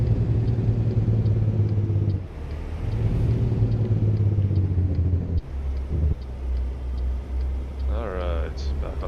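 A truck in American Truck Simulator, hauling 50,000 lbs of flour, rumbles along a highway with a steady low engine drone that shifts slightly between stretches, while someone talks over it.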